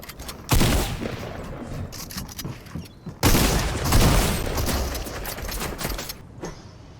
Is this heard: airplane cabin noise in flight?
no